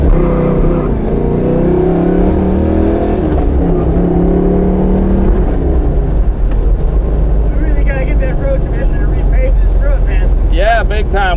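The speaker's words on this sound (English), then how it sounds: "Now we're just going to launch it a little bit in first gear." A 1968 Chevrolet Camaro Z/28 launching hard in first gear, its loud V8 roaring and revving up close in a steady rising drone, with a voice speaking briefly near the end.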